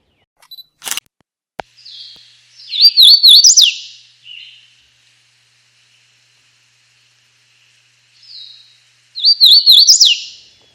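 Wild birds in a wooded area with chickadees and titmice common, two bursts of bright, rapid chirping calls several seconds apart, with a couple of sharp camera shutter clicks at the start and otherwise quiet surroundings.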